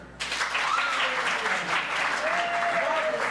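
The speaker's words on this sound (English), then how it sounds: "Please applaud if this is your first time." Audience applause at a hip hop Broadway show, a dense wash of clapping that starts abruptly and holds steady, with a few whoops and voices mixed into the crowd.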